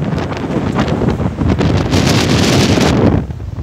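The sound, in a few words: strong typhoon wind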